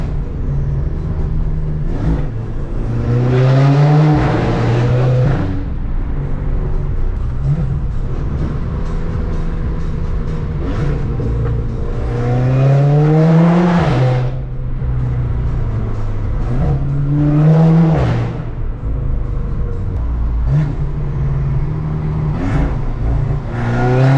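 A stage 2 tuned VW Golf GTI accelerates hard through a tunnel, its engine revving up in several rising sweeps with strong echo, loud and close, with no talk over it.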